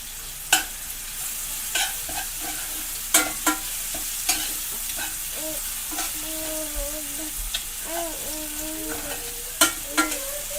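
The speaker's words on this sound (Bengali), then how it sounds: "হালকা ফ্রাই হবে পেঁয়াজটা হালকা ব্রাউন হয়ে গেছে" Onion and whole cumin seeds fry lightly in oil, a steady close sizzle punctuated by repeated sharp clinks and scrapes of a spatula stirring the pan.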